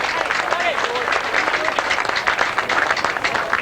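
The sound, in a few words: crowd applause for Brighton football team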